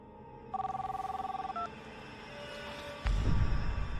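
A telephone rings with a steady electronic trill for about a second, then stops short with no answer, followed by a dull thump and low rumbling noise.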